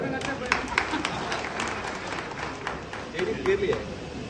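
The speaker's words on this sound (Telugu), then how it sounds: "చప్పట్లు కొట్టాలి" A crowd at a political meeting claps steadily and densely throughout, with a speaker's voice heard over the applause.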